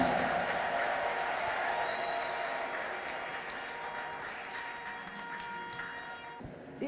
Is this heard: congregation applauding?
yes